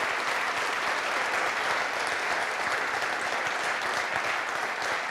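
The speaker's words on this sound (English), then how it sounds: "Let's give a round of applause to all of our filmmakers tonight." An audience applauds filmmakers at the Chagrin Documentary Film Festival awards night in Chagrin Falls, giving sustained, even clapping from a sizable crowd heard from a moderate distance.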